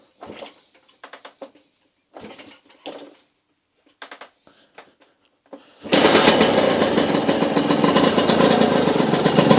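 A Suzuki 125 RM two-stroke motorcycle fires up on the first kick, first a few short rough bursts and sputters, then a loud continuous buzzing run, close and alone with no talking.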